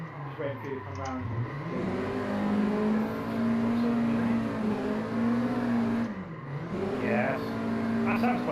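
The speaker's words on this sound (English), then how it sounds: "That sounds quite good from the outside, actually, that car." Car engine in a sim drifting racing game, a steady droning note that dips and climbs with revs, heard from outside the car, with people talking over it throughout.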